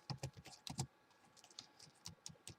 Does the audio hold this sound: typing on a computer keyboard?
yes